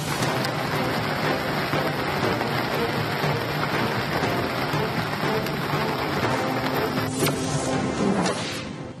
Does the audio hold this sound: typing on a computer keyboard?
no